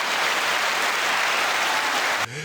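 An applause sound effect plays inside a rap freestyle track: a loud, dense wash of crowd clapping runs steadily for about two seconds, then cuts off abruptly.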